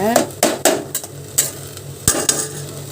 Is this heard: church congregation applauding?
no